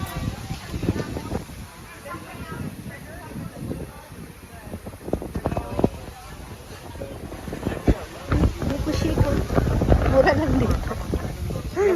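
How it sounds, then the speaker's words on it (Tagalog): Strong wind buffets the microphone in loud, rumbling gusts at an El Nido beach, with voices talking underneath and water-like noise in the background. "Ang lakas ng hangin."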